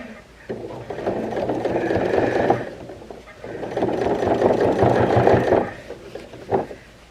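A sewing machine stitches through thick denim from upcycled jeans in two loud, busy bursts of rapid mechanical clatter, separated by a brief pause, with a short knock at the end.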